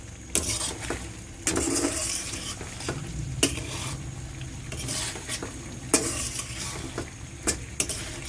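Ground spices, red chilli, coriander and dried fenugreek leaves fry for a restaurant-style chicken karahi. A close, low sizzle is broken by sharp metal clanks and scrapes of a spoon stirring against the pan, and nobody talks.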